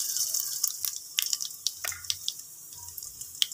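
Water is poured into a cooking pot of browned-onion oil spiced with cumin, salt and Chinese salt, giving short, close splashing and trickling bursts at a moderate level, with no talking.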